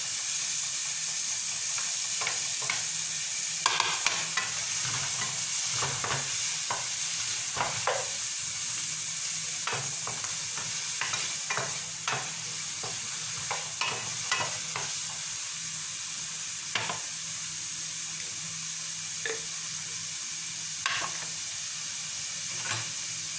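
Tomatoes sauté in hot oil in a pan, giving a steady soft sizzle and hiss broken by frequent sharp crackles and spatters, with occasional stirring.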